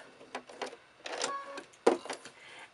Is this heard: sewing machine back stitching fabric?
yes